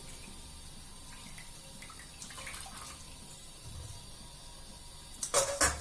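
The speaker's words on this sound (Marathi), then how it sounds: "ही चांगली छानपैकी रगडून रगडून धुवायची ही आता ही तीन पाण्यानं धुतली हे चौथं पाणी आहे" Roselle (ambadi) leaves are rubbed and rinsed in a fourth change of water, soft quiet sloshing and trickling that ends in a few louder splashes close by.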